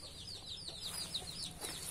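Chickens in a coop on a small Thai farm that also keeps pigs, giving off soft, rapid, high chirping clucks in a steady, fairly faint stream with no talking.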